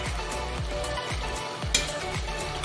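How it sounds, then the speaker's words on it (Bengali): Spicy masala paste for a potato and pea-fritter curry bubbles and sizzles steadily in hot oil, with repeated soft pops and spits close up over a constant frying hiss, and no voices. "দেখো বন্ধুরা, এবার ফুটছে মশলাটা, দারুণ ফুটছে।"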